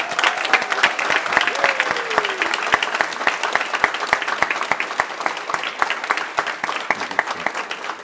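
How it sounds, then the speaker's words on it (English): Steady, loud applause fills the hall at a fire academy graduation for Class 171, dense clapping from a large standing audience continuing throughout with faint voices mixed in. "join me in standing up and giving your family and loved ones a round of applause"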